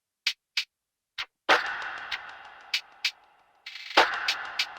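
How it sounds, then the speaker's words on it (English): A sparse, trippy hi-hat loop pitched down 14 semitones, heard as short ticking hits with irregular gaps, then a thicker sustained hissy texture with accents, alone and fairly quiet. "I just added this little trippy hat loop."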